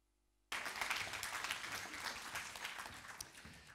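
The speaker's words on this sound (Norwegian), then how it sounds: "Jeg tolker den nølende applausen som trang til å få se mer." An audience at a literature house event breaks into applause after a brief silence, a sudden burst of clapping that stays moderate and then slowly thins out.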